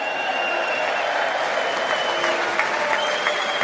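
Steady clapping from a large audience during a State of the Union address, a thick continuous wash of applause with faint tonal sounds mixed in and no pause.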